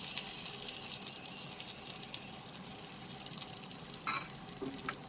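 Egg mixture sizzles softly in a hot pan on a low flame for egg paratha, a faint steady crackle with a brief louder spatter near the end.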